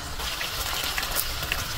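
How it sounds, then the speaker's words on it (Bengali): Water poured into a pan of bone-in chicken pieces being cooked, a steady close hissing gush with faint sizzling and no voices. "এখন আমি সামান্য পানি দিব মুরগির গোস্তটা হাড় সহ সিদ্ধ হওয়ার জন্য"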